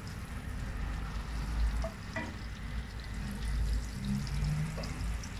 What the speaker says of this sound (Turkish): Yağ eriyene kadar bekleyelim.